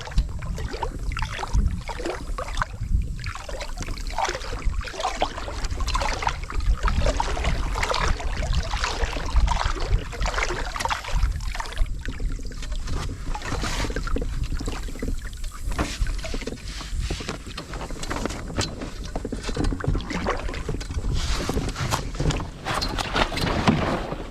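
Oars stroking water beside a Walker Bay 8 dinghy, used like a paddle in wind with no centerboard; steady close splashing and dripping with wind noise throughout, no talk.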